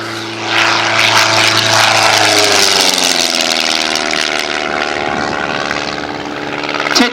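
A Titch light aircraft with a converted Continental engine of about 100 horsepower flies past at an airshow, its propeller drone loud and close, the pitch sliding down as it passes, then fading slightly before swelling again.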